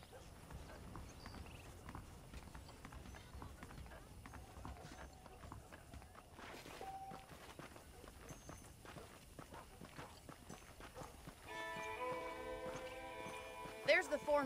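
Horse hooves in Red Dead Redemption clip-clop at a steady walking rhythm on the ground, close and fairly quiet, continuing throughout with faint ambient sound around them.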